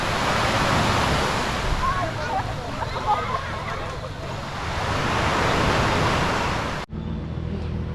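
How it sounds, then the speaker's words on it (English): Ocean surf washes onto a beach in Guimaras, a loud, broad rush of breaking waves mixed with wind buffeting the microphone, cutting off sharply near the end. "Look at the ocean, look at the beach."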